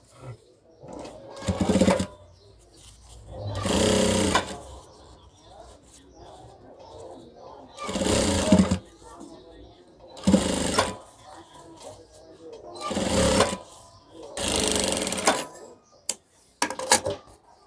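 A sewing machine stitches fabric for a box pocket in six short, loud, rapid bursts, each lasting about a second. A person talks in the quiet gaps between the runs.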